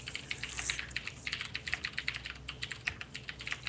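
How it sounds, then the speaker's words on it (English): Typing on a computer keyboard during an online tabletop game session, a close, steady patter of rapid key clicks with irregular rhythm and no talk. "Tor Milan, Grand Bonebreaker are typing"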